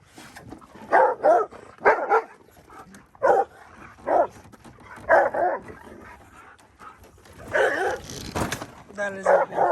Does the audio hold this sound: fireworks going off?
no